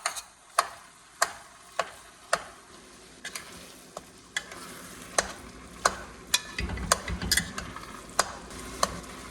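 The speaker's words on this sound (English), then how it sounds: "Mix everything up together. And break it down, break it down." Venison being stirred and broken down in a pot for a red wine stew, with sharp, regular spoon clacks against the pot about every half second over a soft sizzle, growing busier toward the end.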